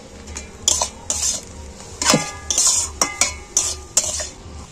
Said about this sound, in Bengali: গরম মশলাটা আমি একটু দিয়ে নাড়াচাড়া করে নেব।